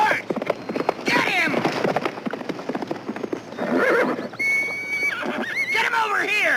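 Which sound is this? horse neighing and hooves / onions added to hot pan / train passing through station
horse neighing and hooves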